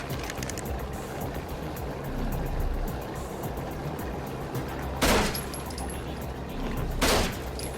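Gunfire in an action film, with a few sharp bursts rising out of a dense, loud rumble of background noise.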